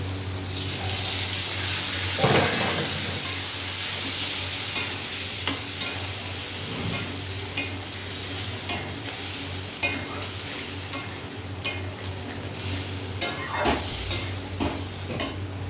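Taro frying with spice paste in a pan, with a continuous sizzle broken by repeated sharp scraping and clinking stirs.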